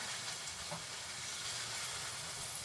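Pancake batter frying in a cast iron pan, a steady, faint hiss that holds evenly throughout with no talking.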